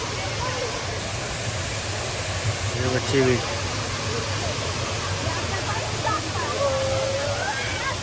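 Waterfall at Expo 2020 gives a steady, broad rush of falling water that fills the whole clip, with people talking faintly and briefly beneath it.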